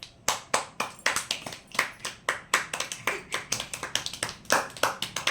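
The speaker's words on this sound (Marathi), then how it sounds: "आणि सगळ्या मुलींनी टाळ्या वाजवायला लागल्या आहेत" A group of girls clap their hands in a loose, uneven rhythm, sharp close claps arriving roughly two to three per second, some overlapping, with no talking.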